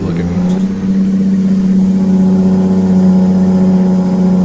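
A Kenworth T100 truck engine in American Truck Simulator drones loud and steady, a deep sustained hum with a high whine that rises slightly, heard alone without talking.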